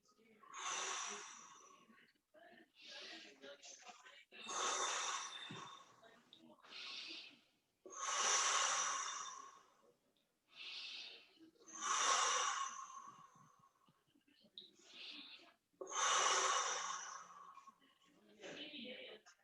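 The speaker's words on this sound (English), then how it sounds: "So I take it in deeply through my nose and breathe it into my heart and blow the air into my heart." Deep breaths drawn in through the nose and blown out, about six slow cycles, each a close, airy inhale followed by a longer breathy exhale with quiet gaps between.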